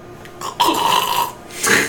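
A voice imitates snoring with two rough, drawn-out nasal snorts, close and fairly loud.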